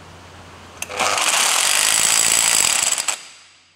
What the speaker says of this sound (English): But I have this fancy impact gun, fresh from China, that'll hopefully let me do it.